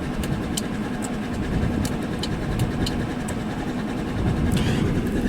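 A 1998 Honda Helix scooter engine idles steadily close by, a low rumbling putter with faint ticking, no one talking over it.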